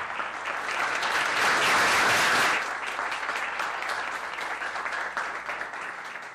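Conference audience applauding at the close of a work forum, a loud burst of clapping that swells early, then tapers gradually while continuing to the end.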